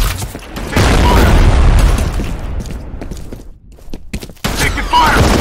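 A grenade goes off in the shooter game FEAR Combat with a heavy, loud boom. Thumps and bursts of gunfire come before and after it, and the noise dips briefly before another blast-like surge near the end.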